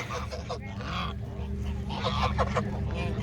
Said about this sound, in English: there's a geese park across the road